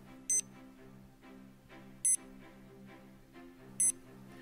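Three short high electronic beeps from a FINIS Tempo Trainer Pro swim metronome at a steady interval of roughly 1.75 seconds, sharp and clear above a low background hum.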